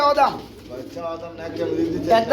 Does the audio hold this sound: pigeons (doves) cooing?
yes